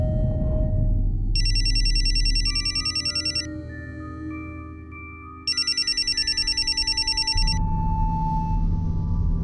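A phone rings twice in trilling bursts over a low electronic hum, with a quieter steady tone between the rings.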